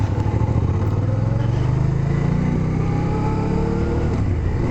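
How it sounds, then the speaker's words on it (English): A motorcycle out on a ride gives a loud, steady engine drone that climbs in pitch as it accelerates, with a faint clatter underneath. "it's nice to be out again on the bike, really."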